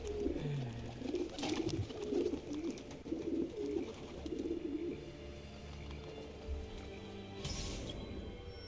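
Pigeons coo in Assassin's Creed II, a repeated rolling coo phrase of about five calls over the first five seconds, fairly close and clear, over a steady game ambience with a few brief clatters.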